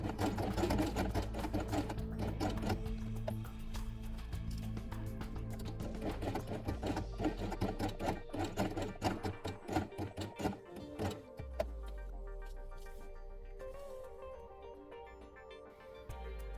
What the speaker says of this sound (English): sew it twice on the machine with white thread